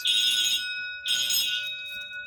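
A fire alarm bell rings loud and close during a system test, two bright metallic ringing bursts separated by a brief dip, each with a sustained shimmering tone.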